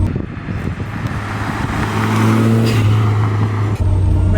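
Right-hand-drive Toyota Celica GT-Four ST205 in WRC trim, its turbocharged engine droning steadily from inside the car while driving, a low sustained hum that swells slightly partway through.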